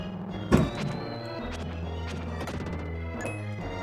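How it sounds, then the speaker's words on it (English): Explosions from the SNES video game Illusion of Gaia: a sharp crash near the start followed by a dense run of booming blasts and synthesized game music, loud and continuous with no talking. "you're definitely going to be hearing explosions probably for the next 30 minutes"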